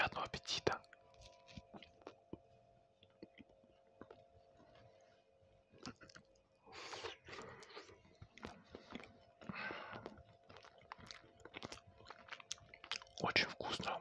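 Close, crunchy chewing and biting of fried potatoes with cutlets, heard as irregular mouth sounds and wet crunches alongside soft whispered talk.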